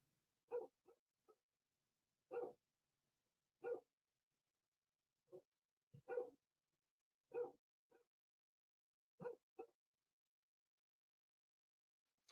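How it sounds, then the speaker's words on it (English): A dog barks in short scattered bursts, single and double woofs spaced a second or two apart against a quiet background, fairly faint and somewhat distant, with no talking over it. "What the hell is this dog going off barking for?"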